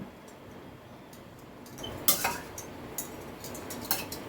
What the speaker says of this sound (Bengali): খুব ভালো করে ডালের সাথে শাকটাকে মিশিয়ে নিতে হবে